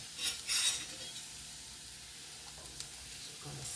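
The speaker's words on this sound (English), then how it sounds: "I'm going to saute this." Scallions and oregano sizzle in olive oil in a cast iron skillet, opening with a couple of louder stirring bursts, then a steady, soft sizzle with a few faint utensil clinks.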